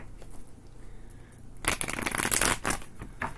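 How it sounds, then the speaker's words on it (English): A deck of worn tarot cards is shuffled by hand in a few quick, close riffling bursts after a quiet start. "A couple quick shuffles here."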